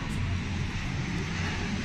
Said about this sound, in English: We have a plane.